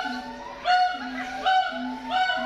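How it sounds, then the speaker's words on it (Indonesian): Geese honk in a zoo bird enclosure at Ragunan Zoo, Jakarta, several loud nasal calls in quick bursts over a steady low background of other birds, close and clear with no talking. "Kita lihat aneka jenis burung yang ada di kandang ini nih."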